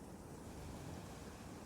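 Sea waves wash steadily at sunrise with a pirate captain's ship nearby, a soft continuous surf roar and faint wind noise with no voices over it.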